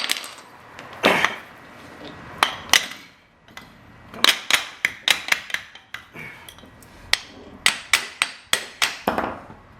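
Steel hammer blows drive a chisel to knock a car axle loose on a turbo F23-swapped Honda EK hatchback: a scattered few strikes, then a fast rhythmic run of sharp metallic bangs, close and loud, with no talking.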